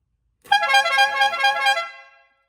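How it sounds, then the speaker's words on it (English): A single loud, sustained blast of a Maserati triple trumpet air horn on a 1969 Mercury Cougar XR7 convertible, bright and brassy, lasting nearly two seconds before cutting off. "That's a Maserati triple trumpet air horn."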